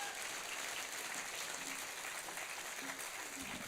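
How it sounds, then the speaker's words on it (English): A conference crowd at a Rotary district event gives Jessie Harmon a steady round of applause, a dense, even hiss of many hands heard faintly and from a distance without a break. "Put your hands together and give her a good clap."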